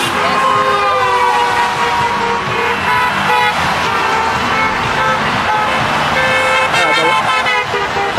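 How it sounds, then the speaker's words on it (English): Several car horns toot repeatedly at a Tea Party rally in Hauppauge, Long Island, sounding over steady, loud roadside traffic, with voices mixed into the din throughout. "showing their support with their car horns"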